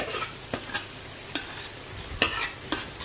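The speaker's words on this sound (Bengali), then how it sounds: "আলু ভাজা হইতেছে" Potatoes fry in a pan in a home kitchen with a soft continuous sizzle, broken by a string of sharp scrapes and taps from stirring at uneven intervals, quiet and close with no talking.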